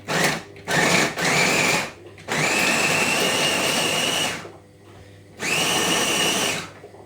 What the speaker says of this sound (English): So I'm going to grind them up together